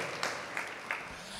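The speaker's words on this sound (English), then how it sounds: "Clap one more time because this is good." A church congregation claps briefly during a sermon service, a soft, fairly distant wash of hand claps with a few louder accents, fading toward the end.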